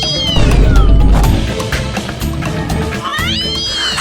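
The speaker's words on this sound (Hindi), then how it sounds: "बिल्ली की आवाज कैसे आ रही है? ये पुष्पा जी का रिंगटोन है" A cat-meow phone ringtone plays loudly, with repeated meows rising and falling over a busy indoor room, a voice mixed in at times.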